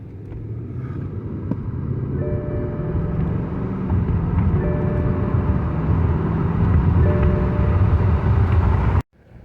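A BMW 550 with boost loss and misfires accelerating, its engine drone rising steadily in pitch and loudness for several seconds before cutting off abruptly, heard from inside the car.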